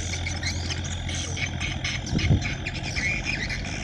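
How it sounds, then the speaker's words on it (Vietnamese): Low idling engine of an iron barge hauling stone on the Mekong River in the afternoon, a steady droning hum with a brief louder thump, while birds chirp clearly over the top. "có chiếc ghe sắt chở đá nha khán giả"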